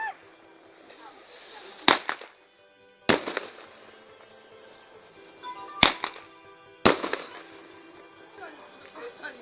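New Year fireworks salute set off near a house, four sharp loud bangs spaced a second or two apart, each with a crackling tail and echo.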